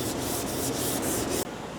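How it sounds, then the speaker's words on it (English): Steady abrasive sanding on a car body panel in an X pattern, continuous back-and-forth rubbing with brief rhythmic swells, then an abrupt pause before it resumes. "I'm sanding it down and I'm seeing there's a little spot here"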